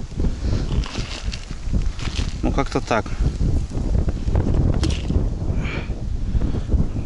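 Gusty wind of about 18 m/s buffets the microphone in rough, roaring surges while someone speaks briefly and something rustles nearby during fishing.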